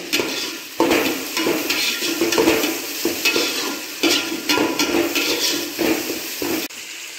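Tomatoes sautéing in a pan with turmeric and chilli powder on the way, cooked down toward a gravy; steady loud sizzle with continuous spatula stirring and scraping, close and without any voices.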